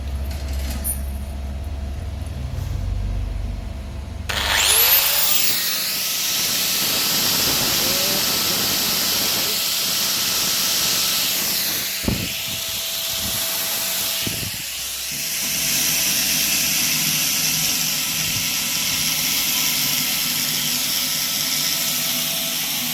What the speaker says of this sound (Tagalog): Siya nga pala ang angle grinder na to ay 7 120 watts